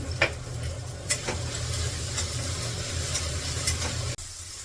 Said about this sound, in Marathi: आता हे दोन मिनिट भर मी असे परतून घेते सगळे एक भर मीठ तिथे मी कांदा परतले टाकले